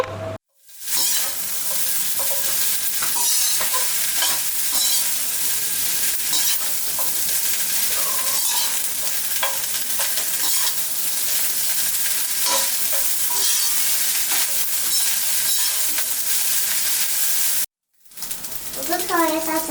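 Chicken fried rice being tossed and fried in a hot pan, street style, a loud continuous sizzle with quick scraping and clattering tosses, cut by a short silence near the start and another near the end.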